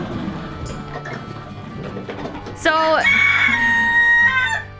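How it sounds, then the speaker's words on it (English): A rooster on a farm with horses lets out a loud, drawn-out crow close by, following a stretch of quieter rustling and faint clucking. "oh, these chickens."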